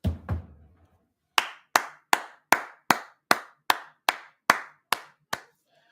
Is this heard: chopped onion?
no